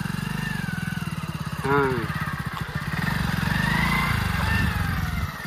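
A motorcycle engine idles and revs gently as a learner rider opens the throttle a little at a time, a steady close engine drone under a voice giving short instructions.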